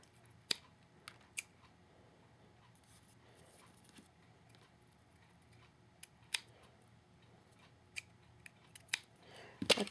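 Scissors trimming small fabric pieces, faint scattered snips spaced a second or two apart against a quiet room, with a few sharper cuts near the end.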